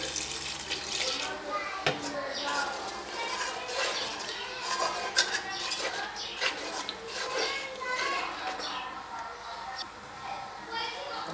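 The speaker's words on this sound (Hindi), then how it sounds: "साथ साथ इसमें हम पानी शामिल करेंगे" Water splashes and gurgles steadily into a bowl of yogurt for kadhi, close up, with faint clinks and a voice in the background.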